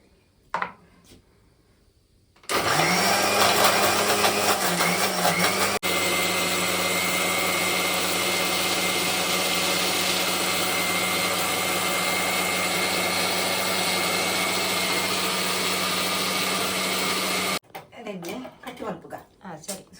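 Mixer grinder grinding a mango pickle spice paste with brine, starting abruptly with a loud steady whirring motor that runs for about fifteen seconds before cutting off, with brief talk before and after.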